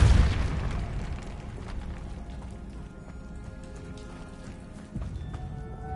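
A Depulso spell goes off in the video game Hogwarts Legacy, opening with a heavy booming burst that fades into a rumbling, crackling wash, then a second softer thump near the end.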